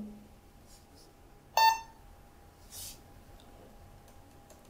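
A single short electronic beep sounds midway over a quiet steady hum as a computer boots from a USB drive, followed by a soft click and faint background noise.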